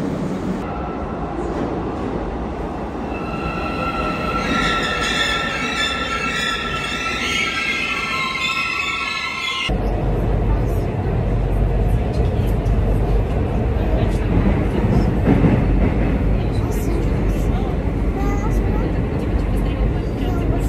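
An Almaty metro train runs with a steady rumble and rail noise that grows louder and rougher partway through, while voices are heard talking over it.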